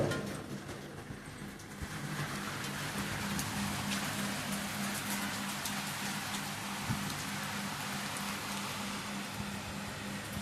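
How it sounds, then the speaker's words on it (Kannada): Light rain falling in a village setting, a soft steady patter across the whole stretch, quiet and even, with a faint low hum beneath and no talking. "ನೋಡ್ರಿ ಮಳೆ ಹೊಂಟದ ನೋಡ್ರಿ ಸಣ್ಣಾಗಿ."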